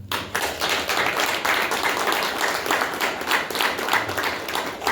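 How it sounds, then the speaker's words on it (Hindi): Audience at a Brahma Kumaris class in Panipat breaks into steady, dense clapping that holds for the full five seconds. The hand claps are close and loud, with no talk over them. "सबके लिए ताली बजाओ।"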